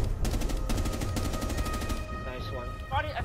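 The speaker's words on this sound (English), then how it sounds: "Bro, literally, buckshot in close quarters." Shotgun buckshot blasts at close quarters in a first-person shooter game, a rapid run of loud, repeated shots packed together, then a quieter stretch with game sounds and brief voice chatter.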